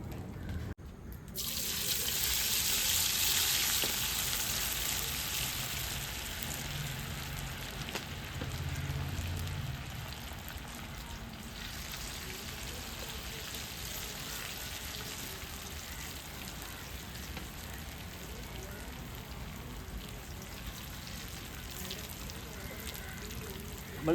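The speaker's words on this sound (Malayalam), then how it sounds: "ഓയിൽ ചൂടായി വരുന്ന സമയത്ത് നേരത്തെ മസാലയൊക്കെ തേച്ച് വെച്ചേ കോളിഫ്ലവർ ഇതിലിട്ട് എടുക്കട്ടോ" Masala-coated cauliflower pieces dropped into hot oil give a loud burst of sizzling in the first few seconds, settling into a steady, lower frying hiss that continues throughout.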